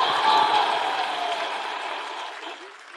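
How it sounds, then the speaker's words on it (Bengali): An audience at a women's gathering breaks into loud, sustained applause, a dense roar of clapping that slowly thins out. "আমাদের ক্ষোভের জন্য একটা জোরে হাততালি,"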